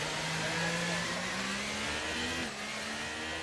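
A race car in a racing video game at Monza drones and revs steadily while stuck in neutral gear, a continuous engine tone that rises slightly in pitch over a dense, noisy background.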